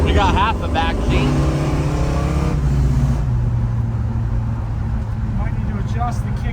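A 1969 Dodge Dart Swinger with a 340 engine drives on the road, its V8 droning loud and steady from inside the car as it accelerates, with speech audible over the engine noise.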